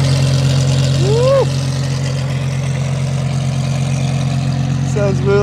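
A Lamborghini Huracan Super Trofeo Evo 2 race car engine idles loudly and steadily with a deep, even hum, while short rising whistle-like tones sweep upward near the start and end.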